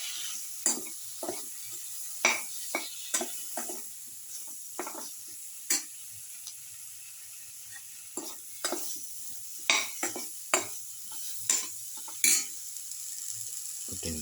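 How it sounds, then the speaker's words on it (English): Spoon scrapes and clatters repeatedly against a casserole pot as eggplant pieces are stirred and sautéed, irregular sharp knocks over a faint, steady sizzle close by. "Put in the eggplant pieces or aubergine pieces. Thoroughly mix."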